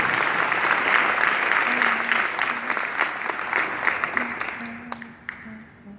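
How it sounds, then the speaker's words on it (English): An audience at a museum event claps warmly to welcome a city councilman, a crisp crowd applause that swells, then thins into scattered claps while a voice speaks briefly over it. "Let's give him a good hand."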